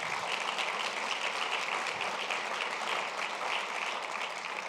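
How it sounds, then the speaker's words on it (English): A crowd at a public policy forum awards presentation claps in a dense, steady round of applause that holds evenly from start to finish without talk. "a round of applause, please."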